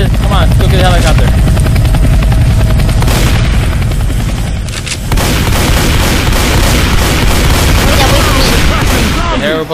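Loud, close helicopter rotor thumping dominates a Left 4 Dead 2 game scene, mixed with gunfire bursts and booms while voices talk over it.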